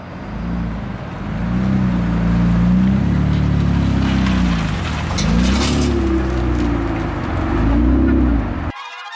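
An all-wheel-drive car, a heavily modified restored project car, heard from inside while driving on the road: a loud, continuous engine drone rising and falling as it revs through gears, cutting off abruptly at the end.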